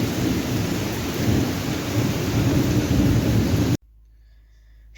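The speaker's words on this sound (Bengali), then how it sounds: "কেমন বৃষ্টি পড়ছে, বিশাল জোরে বৃষ্টি পড়ছে" Heavy rain pours steadily with thunder rumbling through it, a loud, dense wash for most of the stretch before cutting off abruptly to near silence.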